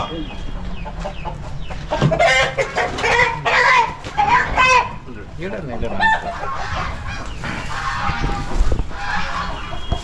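Chickens clucking and calling close by, with busy overlapping bird sounds and some background activity throughout.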